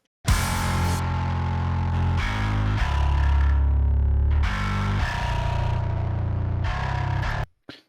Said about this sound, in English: So adding more distortion to it.